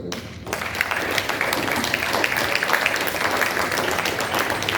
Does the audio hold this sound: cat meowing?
no